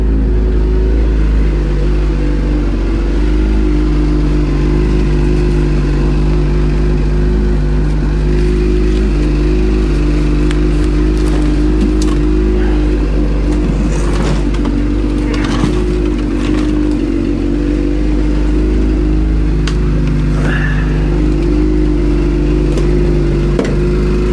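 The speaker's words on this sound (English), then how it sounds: "Shifting going on with that bumpy road coming in." A vehicle travels a bumpy, frozen road near camp in Lovell, Maine, its engine droning loud and steady with a constant low hum, light rattles and clatter from the rough surface, and gear shifts.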